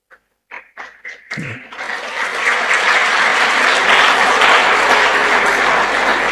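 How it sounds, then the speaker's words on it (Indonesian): Audience applause at an Islamic boarding school gathering, starting with a few scattered claps and swelling into sustained, dense clapping from a large crowd that holds steady to the end. "Ini tepuk tangan"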